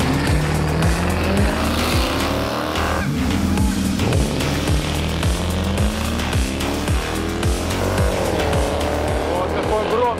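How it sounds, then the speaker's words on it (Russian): A loud Mercedes launching at a drag race start, its engine climbing through rapid gear-by-gear pitch sweeps, heard close and continuous with other racing car engine noise around it. "Вот какой громкий. Стартует сегодня Мерседес у нас."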